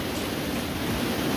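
Heavy rain pours steadily around a stadium construction site, a dense, constant broadband wash that stays loud and even throughout with no voices over it.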